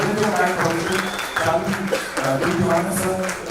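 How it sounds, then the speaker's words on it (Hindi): A crowd claps at a film trailer launch event, a steady wash of applause at full level running under loud, continuous talk and voices throughout. "एक बार सबके लिए जोरदार तालियां हो जाए"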